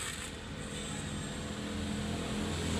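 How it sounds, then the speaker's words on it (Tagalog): Irrigation pump engines running in corn and onion fields, a steady low droning rumble that holds continuously without pause, moderately distant. "tumutunog yung kanilang mga makina sa patubig"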